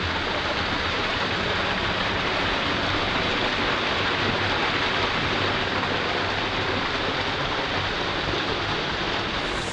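Water pours over a small waterfall at the Falls of Cobb, a constant close rushing hiss that stays even and unbroken throughout, with no voices over it.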